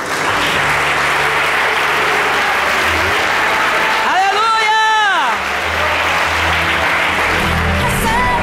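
A church congregation applauds loudly and continuously, a dense wash of clapping that fills the room, with a sustained sung or shouted voice rising over it midway.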